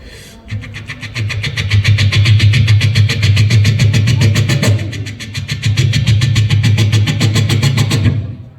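A voice imitates a motorboat chugging along the Godavari river at Rajahmundry. It is a steady, loud droning engine hum with a rapid pulsing rhythm that swells, dips briefly, and resumes before cutting off.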